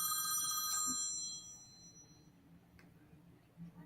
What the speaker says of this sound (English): I got my cell ringing.